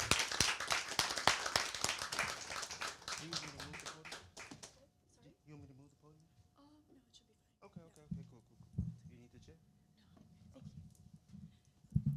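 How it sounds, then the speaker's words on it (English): An open mic audience claps loudly and fast, then the applause thins out and dies away as the next performer is welcomed. Then a person talks over the quiet room, with a few scattered claps near the end. "Clap it up for her till she get up here."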